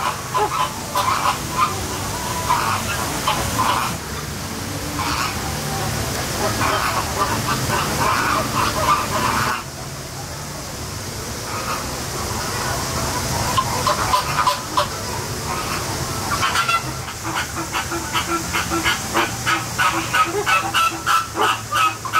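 Flamingos at SeaWorld Orlando call on and off in a noisy flock, a jumble of honking and chattering bird voices that rises and falls over a long stretch, mixed with ambient park noise.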